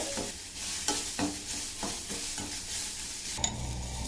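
Onion, garlic, tamarind and turmeric sizzle softly in a pan for a fish curry masala. A spatula scrapes and stirs in a quick, irregular rhythm, close by and with no talking.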